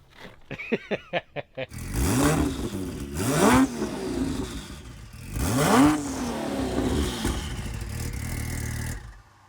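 A car engine is blipped several times in sharp bursts, then revved hard toward the red line in repeated long rising pulls, loud and close with a rough, clattering exhaust note.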